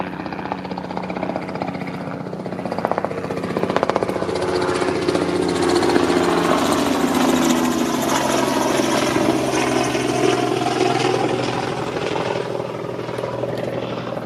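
A loud, sustained whirring drone that rises and shifts pitch as a power drill runs continuously, drilling into an e-bike rack, with no voices.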